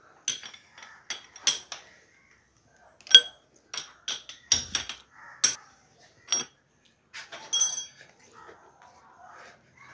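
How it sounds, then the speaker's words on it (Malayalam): Metal tapping on the front fork of a Royal Enfield Bullet 350 during a fork oil seal change, a series of sharp, close knocks in uneven bursts with quiet gaps between them. "2 തട്ട് തട്ടാം. അപ്പോൾ കുറച്ചൊന്ന് ലൂസാവും."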